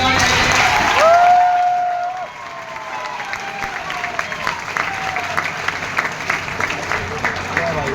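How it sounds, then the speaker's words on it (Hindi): An audience claps loudly at a Diwali school event, a dense burst of applause that swells then settles into steady clapping, with a voice speaking briefly early on and a pitch-gliding whistle-like sound near the start. "जोरदार ताली बजाएं।"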